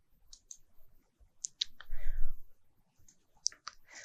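Short, crisp computer mouse clicks come one after another as objects are selected in RFEM 6 structural software, with faint rustling between them and no talk.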